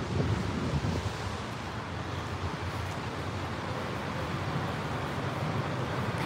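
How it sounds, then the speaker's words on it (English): Strong wind buffets the microphone on a city walk in Leipzig, Saxony, a steady, loud rumbling roar with gusty low-frequency thumps throughout and no voices. "It's windy."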